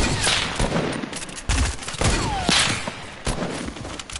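Bursts of rapid gunfire from a green gun in a video game, loud and close, coming in several clustered volleys with brief gaps between them.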